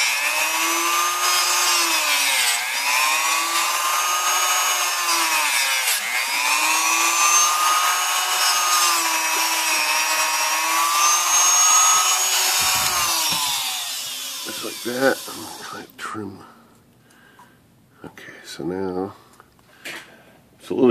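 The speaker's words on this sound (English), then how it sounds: "I'm going to cut a portion of this off here with the Dremel tool." A Dremel rotary tool cuts a plastic typewriter carriage release arm with a loud, high-pitched whine that wavers as it bites in, then stops, leaving short bursts of handling noise and some talk.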